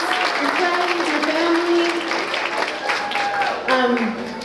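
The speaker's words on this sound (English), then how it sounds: "So a clap, applause for you." Audience applause at a spring voice recital: dense, steady clapping from a crowd fills the whole stretch, with a person speaking over it and sustained tonal voice lines running through the clapping.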